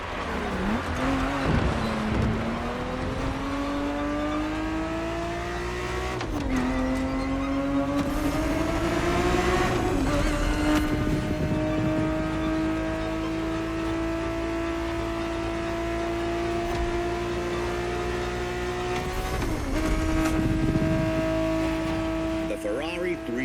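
A Ferrari 365 GTB4 sports car drives with a steady engine drone, its pitch climbing through gears with brief dips at shifts, loud and close throughout under continuous background sound.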